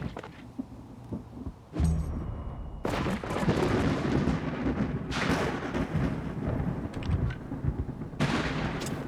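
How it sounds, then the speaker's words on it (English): Thunderstorm in the video game WarTales, with loud rolling thunder rumbles and crashes over steady rain-like noise, continuous and close throughout. "Oh, I like this storm a lot."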